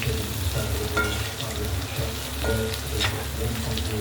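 Okra sizzles steadily as it fries in hot oil in a pan, with occasional scattered peanut pieces, a continuous dense crackle with brief stirring clatters, close and moderately loud, no talking.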